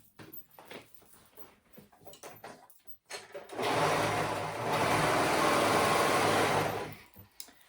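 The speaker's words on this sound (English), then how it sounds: "So we're gonna go ahead and sew those two together, the back bodice." A sewing machine stitches back bodice pieces together, starting after about three seconds of quiet rustling handling and then running as a continuous mid-level whir for roughly three and a half seconds before stopping.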